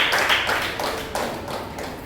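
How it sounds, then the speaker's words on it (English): Applause from an award ceremony audience as a minister is invited onto the dais: dense, close hand clapping that tapers off over about two seconds. "Give a big round of applause."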